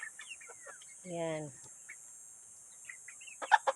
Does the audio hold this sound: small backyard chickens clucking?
yes